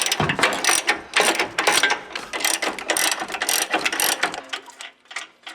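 A hand ratchet rapidly clicking as inner nuts come off a Jeep JL Wrangler front bumper, a loud, close, continuous rattling burst that slows and thins out near the end.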